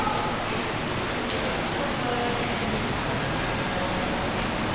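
Heavy wet-season rain pours steadily in Phuket, Thailand, a dense, even hiss of downpour that fills the scene without letting up.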